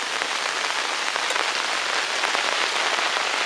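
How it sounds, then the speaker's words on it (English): Steady, dense rain patters on a greenhouse roof, a constant close hiss of drops with no voices or other sounds over it. "Some of those plants will go back outside when this rain has ended."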